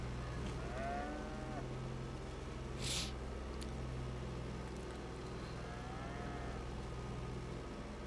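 Cattle mooing in the farming game Farming Simulator 22, a few drawn-out lowing calls rising over a steady low machinery drone, with a brief bright burst partway through and no talking.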